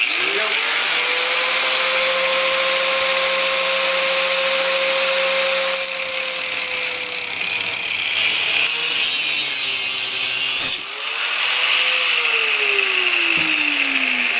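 A power tool cuts through a Honda Sabre motorcycle shock absorber below a marked line, a loud, close, steady whine whose pitch sags under load, then dips and recovers near the end.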